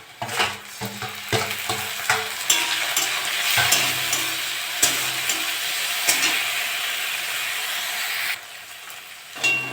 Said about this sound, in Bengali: চিংড়ি মাছটা দিয়ে একটু ভাজা ভাজা করে নিয়েছি